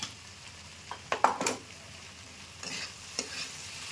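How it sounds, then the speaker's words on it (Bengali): Soybean chunks for chilli soybean frying in a pan, with a steady low sizzle broken by a few short clattering stirs of the spatula near the start and again later, close up and with no one talking. "এটা ভাজা হয়ে গেল"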